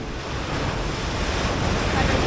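Rough sea waves roll onto Cherai beach in a steady, roaring wash of surf, with strong wind buffeting the microphone throughout.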